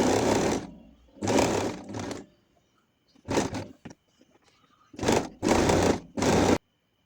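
Sewing machine stitching fabric, close and clear, running in several short bursts of rapid mechanical whirring separated by silent pauses.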